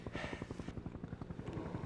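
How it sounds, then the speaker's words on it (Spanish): A helicopter's rotor thumps in a fast, steady rhythm, fairly faint and distant, with a brief hiss layered over the beating. "Un helicóptero."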